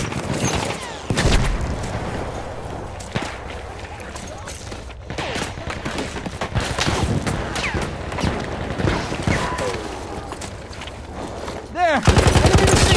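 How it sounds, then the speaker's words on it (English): Enemy machine gun fire in Battlefield 1 on the Argonne Forest Rush map, long rattling bursts mixed with sharp shots and booming blasts, loud and near, continuing almost without pause. "Enemy machine gun."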